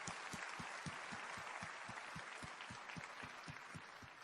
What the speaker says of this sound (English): Let's have a huge round of applause for everyone in participation today.